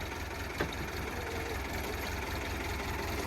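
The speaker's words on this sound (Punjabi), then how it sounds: "ਟਰੈਕਟਰ ਸਟਾਰਟ ਹੋ ਗਿਆ। ਟਰੈਕਟਰ ਦੀ ਆਵਾਜ਼ ਚੈੱਕ ਕਰੋ" A New Holland 850 tractor idles steadily, a continuous low diesel rumble with one brief knock near the start and no talk.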